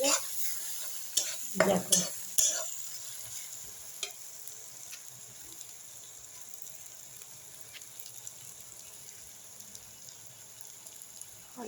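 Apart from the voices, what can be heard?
sautéing masala with onions in a pan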